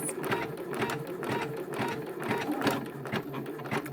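Embroidery machine stitching a quilt-in-the-hoop heart applique, with tie-off and jump stitches, a fast, even, close mechanical needle rattle running steadily throughout.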